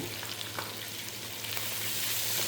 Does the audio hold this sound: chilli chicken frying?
yes